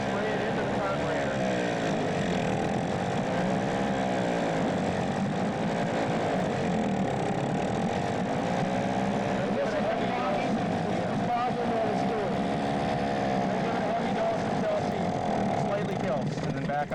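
A boat's outboard engine runs at raised RPM while heavy fogging oil is sprayed into its carburetor. It gives a loud, continuous, close-up drone with a wavering throb and no breaks, and someone talks over it throughout.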